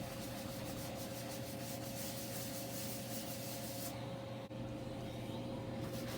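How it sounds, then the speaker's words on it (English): A Festool sanding block with a 21.5mm dust extraction hose rubs steadily across wood, a continuous close scraping hiss over a constant vacuum whine, unbroken except for a brief dip near the end. "notice how I'm sanding a large area and there isn't a buildup of dust"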